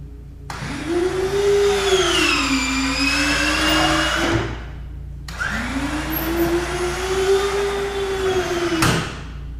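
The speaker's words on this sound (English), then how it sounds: "reset the gear motor breaker and swing it 1 more time normal" Landing gear motor on a Beechcraft Bonanza A36TC swinging the gear, a loud whining electric motor running in two cycles of about four seconds each, its pitch rising and falling, with a clunk as each cycle ends.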